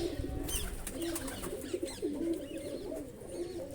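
Pigeons coo in low, throaty bursts against a steady background hum, with a few soft wing flutters and rustles nearby.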